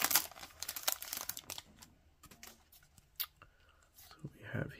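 A foil pack of 2019 Topps Opening Day baseball cards crinkles and tears open in close, uneven bursts of rustling, with someone talking between the crackles.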